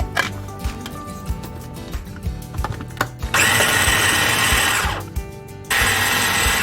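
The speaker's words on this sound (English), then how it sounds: "first I'm gonna ground the shrimp. This is I have small machine, so I can do like a little bit at a time." A small electric grinder whirs as it grinds shrimp, with short bursts first giving way to a sustained, steady motor roar near the mic. There is a brief pause before the roar starts again.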